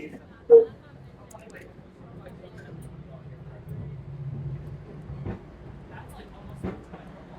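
Interior of a Canadian double-decker local train: a low steady rumble with faint rattles and a few knocks, while people talk nearby.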